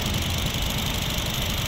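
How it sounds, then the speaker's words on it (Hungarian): Honda Jazz 1.2 engine idling up close, a steady even hum with a fine ticking texture and no other sounds. "Most akkor hallgathatjuk a motorhangot."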